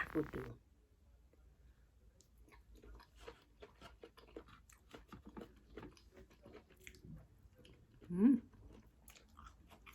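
A person chews a cooked sweet bolete mushroom dish dipped in fish chili sauce. Soft, close, wet chewing and small clicks go on quietly throughout, with a brief murmured voice near the end.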